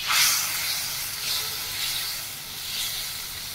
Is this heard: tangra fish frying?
yes